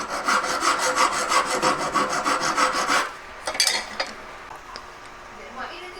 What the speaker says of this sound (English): So I've been filing this up now